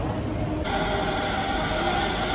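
Delhi Metro train running with steady rumble and rail noise heard from inside the ladies' first coach, a continuous broadband roar with a faint high whine throughout.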